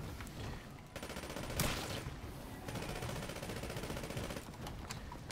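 Gunfire in a Call of Duty zombies game, sustained automatic bursts with a sharp louder shot near the start, dense and continuous throughout, with no talk over it.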